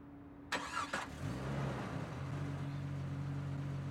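A car engine cranks with two sharp starter bursts, then catches and settles into a steady mid-pitched idle, close and clear with no talk.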